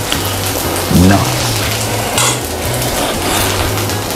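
Spam bacon fried rice stirred and frying in a pan on a portable stove, a constant close sizzle with scraping strokes, while a person talks over the cooking.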